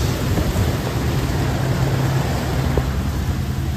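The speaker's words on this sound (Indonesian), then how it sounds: "Ini lagi hujan deras." Steady, dense roar of heavy rain drumming continuously, heard from inside a car, with a low rumble underneath and no voices.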